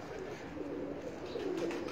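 Pigeons cooing on a rooftop, low throaty coos rising and falling close by over steady background noise, with a stronger coo near the end.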